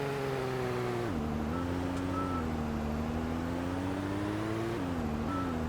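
A truck engine in the Demolish and Build 2018 video game drones loudly and steadily, its pitch dipping and then rising again as it revs, with no speech.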